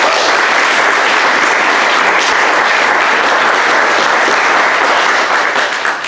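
Sustained audience applause at the second annual abalone festival in Monterey, California, held at the Japanese American Citizens League, steady and dense clapping from a crowd filling the whole stretch, tapering slightly at the end.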